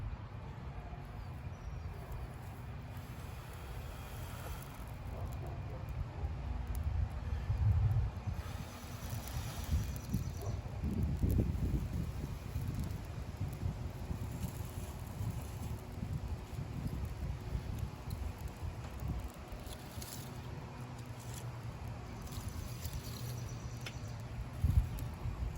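Wind blows outdoors during bow drill fire-starting, a continuous low rushing noise with gusts that swell and fade, no talking.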